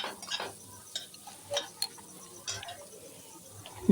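A spoon stirring onions and garam masala in a pan, with scattered soft scraping clicks at an irregular pace over a quiet background.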